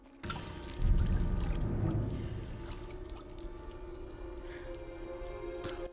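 Water pours steadily as a ration in a fantasy drama scene, beginning with a loud gush that settles into a continuous trickling stream, heard alone without voices.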